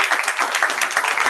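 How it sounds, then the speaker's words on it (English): A brief burst of dense audience applause at an academic conference, steady clapping throughout the short moment. "Give a huge applause."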